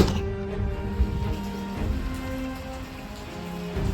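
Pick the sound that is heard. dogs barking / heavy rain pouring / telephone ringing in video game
heavy rain pouring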